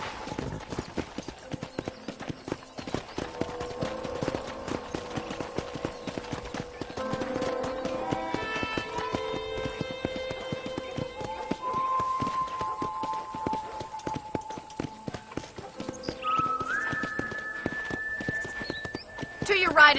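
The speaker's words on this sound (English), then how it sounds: "I picked out a fine horse for you." Horse hooves clip-clop steadily at a walking pace throughout in the Red Dead Redemption video game on Xbox One, with an occasional whinny, under ongoing talk and quiet background music.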